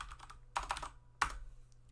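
Computer keyboard typing in a few short bursts of clustered keystrokes, close and clear, with brief pauses between them and no voices.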